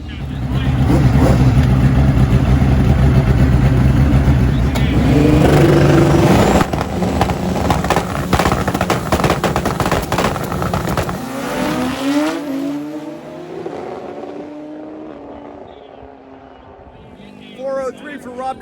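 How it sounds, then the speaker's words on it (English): Pro Extreme turbocharged drag motorcycles roar down the strip at full throttle, a loud sustained engine scream that shifts pitch mid-run and then fades as the bikes pull away, with a commentator talking over it. "This is Pro Extreme, some of the most incredible turbo drag bikes you will ever see"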